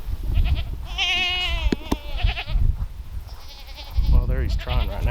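Several goats bleat in a farmyard, the buck Megatron among his three does, with wavering, harmonic cries up close and overlapping, while someone talks over them.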